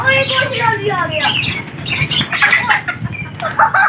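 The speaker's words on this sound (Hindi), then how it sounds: "गाइस ये देखिए कबूतर पहले बाहर आ गया और एक और जल्दी आ गया।" Pigeons burst out of a cage with a quick flurry of flapping wings, close and busy, mixed with bird calls and a person talking over it.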